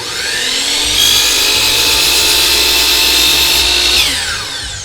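A miter saw set at 45 degrees trims a small piece off crown molding, its motor whining steadily at close range for about three seconds before spinning down, with no voices.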